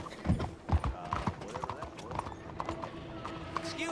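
Horse hooves clip-clop in Red Dead Redemption 2, a steady trotting rhythm close by, mixed with a voice talking over the hoofbeats and some ambient game background.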